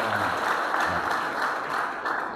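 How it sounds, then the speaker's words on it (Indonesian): An audience at a church fellowship gathering claps continuously, a dense even applause throughout. "Tepuk tangan yang meriah dulu."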